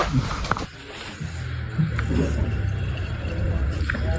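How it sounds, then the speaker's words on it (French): Gasoline pours into a racing motorcycle's tank in the Superbike SSP300 paddock at Ledenon, a close, steady liquid gurgle and trickle running continuously for several seconds with no talk. "Là on est en train de mettre de l'essence dans le moto."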